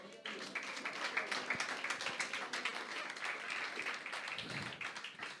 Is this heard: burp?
no